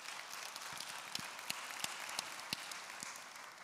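Steady applause from an audience fills an award ceremony honouring women in science, with a dense wash of clapping and a few sharper, louder claps standing out throughout.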